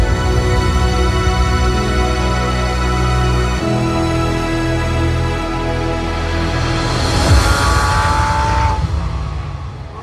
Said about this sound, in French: Audi R8 LMS GT4.